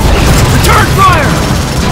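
Gunfire in a Transformers machinima battle inside a video game, a loud, dense wash of shots and mechanical clatter that fills the whole moment, with voices mixed in.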